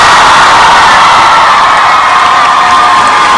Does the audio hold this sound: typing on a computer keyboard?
no